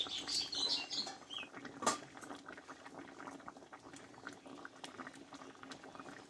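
A potato and pointed gourd curry bubbles in a pot, soft irregular popping and gurgling at low volume, close by, with a brief louder splutter early on and no voices.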